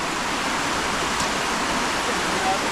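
Fast water current rushing through a flooded dam spillway after rain, a steady, dense roar of broadband rushing water with no breaks, fairly loud and close throughout.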